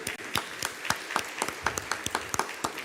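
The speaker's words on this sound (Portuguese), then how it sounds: "Salva de palmas para quem contou." A church congregation breaks into a short round of applause, many hands clapping in an uneven patter that fills the room.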